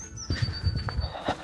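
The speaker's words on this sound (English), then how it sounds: "you can hear the birds singing." Faint birdsong drifts in the background outdoors, with a thin high chirping line over soft, low bumps and rustling.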